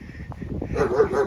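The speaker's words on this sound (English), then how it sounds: "He loves a good bark." At an ape and monkey sanctuary near Brecon in Wales, a dog gives a short, close, whining bark-like vocalisation that rises in pitch, with faint background voices.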